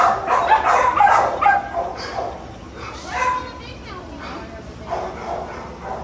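Dogs at a county animal shelter give intermittent barks and yips under steady human talking in a busy indoor space.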